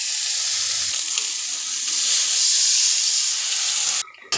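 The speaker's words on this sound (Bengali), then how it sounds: "মশলাটা একটু ভাজা ভাজা করে নিব।" Spices frying in hot oil for a Bangladeshi-style beef tripe (bhuri) curry, giving a steady, loud, continuous sizzle that holds for about four seconds, then cuts off abruptly near the end.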